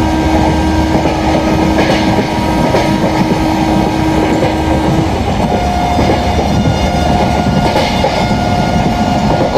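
A simulated Indian express train, the Patna–Shalimar AC Duronto Express, runs at speed in a train simulator game, giving a loud, continuous rumble with rhythmic wheel clatter and a sustained tonal whine and no speech.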